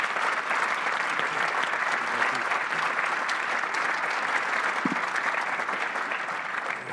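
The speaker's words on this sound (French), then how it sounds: "Un tonnerre d'applaudissements pour Monsieur Dominique de Villepin." An audience applauds Dominique de Villepin with a dense, steady clapping that runs unbroken at a constant loud level, filling the hall without any voices over it.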